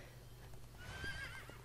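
A horse whinnies in the Drakensang Online video game, a faint, quavering neigh rising over a low background hum.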